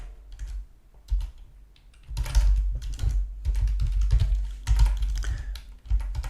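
Keys clatter on a computer keyboard in bursts during a Python programming lesson, sparse taps at first, then a dense run of fast typing, close and moderately loud with no talking.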